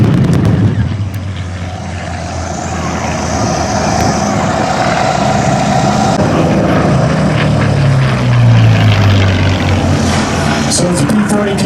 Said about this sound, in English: So as the P-40 continues to make passes